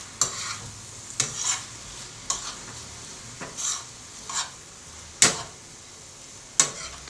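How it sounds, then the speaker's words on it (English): Garlic ramen stir fry sizzles in a non-stick copper pan under a steady frying hiss, while a utensil stirs and scrapes in about six regular strokes spaced a second or so apart. "And then we're going to move this around in the pan and add the rest of our sauce."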